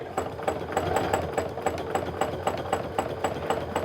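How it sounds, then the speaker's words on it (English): Domestic sewing machine doing free-motion quilting stitches, a close, steady rapid mechanical chatter with a regular pulsing rhythm running throughout, no talking. "So what I do is I sew in place a couple times at each point."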